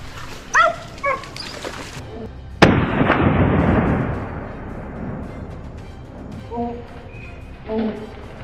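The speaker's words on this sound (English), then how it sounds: "a gunshot rang out" A sharp rifle shot cracks out during a wild boar hunt, its long echoing tail fading over several seconds, with a dog barking and yelping before and after.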